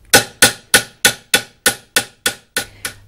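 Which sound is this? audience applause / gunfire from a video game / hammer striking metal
hammer striking metal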